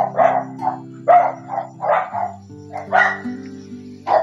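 A dog barks loudly and close, about a dozen short yaps in uneven bursts, with a low droning tone underneath.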